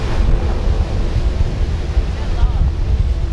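Strong king tide waves crash into the surf in a continuous loud roar, with heavy wind buffeting the microphone throughout.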